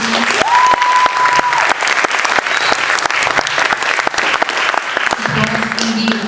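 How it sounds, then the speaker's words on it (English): Loud, dense audience applause after a dance performance, sustained clapping from a crowd filling the whole stretch without pause. "Round of applause, please."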